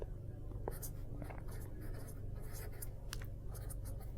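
Chalk or marker scratches out a chemistry correction on a board during a lecture, faint short strokes and taps in quick succession over a low steady room hum.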